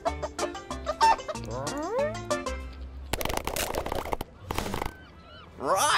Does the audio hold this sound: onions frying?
no